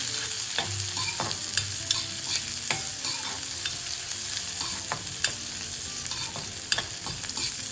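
Finely chopped onion fries in a pan for idli chutney, with a soft continuous sizzle and intermittent spoon strokes scraping and clinking as it is mixed, close and without voices.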